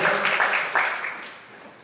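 Audience clapping for a millennial activist at a book discussion, a burst of many hands that starts strong and thins out over under two seconds.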